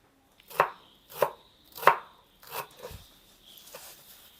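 Leaves of a pumpkin plant being chopped on a board in a home kitchen, with about four distinct close, sharp cuts in an uneven rhythm followed by softer scraping, no talk.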